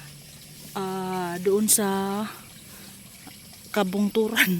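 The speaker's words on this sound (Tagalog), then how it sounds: "ito po ay drainage patungo sa palayan, pero ito ay galing sa malinis na sapa" Clean mountain stream water runs through a drainage channel toward a rice field, a steady low rush heard faintly beneath someone talking.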